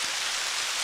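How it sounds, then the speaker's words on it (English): Heavy rain pours down in a dense, steady hiss during a hike on a trail, loud and even with no pauses and no voices. "And then the rain comes again."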